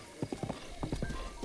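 Horse hooves clip-clop in The Legend of Zelda: Breath of the Wild, a quick run of close, crisp hoof strikes in uneven pairs under a faint game background hum.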